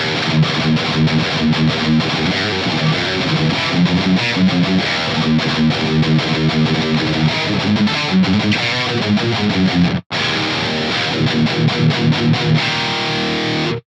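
A heavily distorted electric guitar runs through an STL Tones Josh Middleton amp plugin, playing dense, chugging riffs loud and up close, with one brief cut to silence before it resumes.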